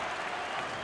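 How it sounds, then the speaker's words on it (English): A basketball arena crowd at a close college game between Texas A&M and Houston applauds and cheers, a dense, continuous wash of clapping and noise throughout. "The crowd is enjoying this close one."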